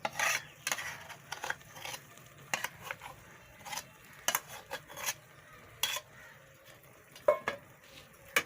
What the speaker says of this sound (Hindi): अब इसको अच्छे तरीके से मिक्स कर लेंगे